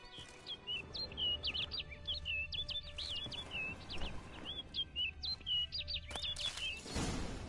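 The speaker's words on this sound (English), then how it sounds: "Looks like the bird's leading me somewhere." Birds in The Witcher 3 give bright, rapid chirps and twittering calls in quick repeated bursts over a quiet ambient background, followed by a louder rush of noise near the end.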